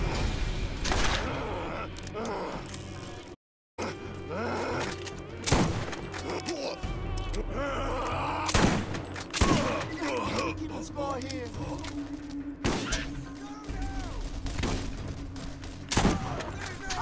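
Pistol shots in a Borderlands firefight, sharp single cracks spaced irregularly over noisy game action, with a voice talking over parts of it and a brief dropout early on.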